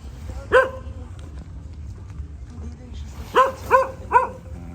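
Several dogs, one of them a Shih Tzu, bark at night in El Nido town on Palawan: one sharp bark comes first, then a quick cluster of three more barks follows over a low murmur of background noise.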